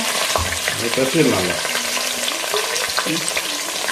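Long-sliced onions frying with pandan leaves in a pan, a loud close sizzle with scraping and stirring clatter throughout, no one speaking.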